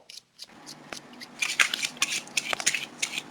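A deck of playing cards being shuffled at a mentalist's card routine, with a run of crisp, papery riffling bursts that grow louder and denser toward the end, close up and with no talk.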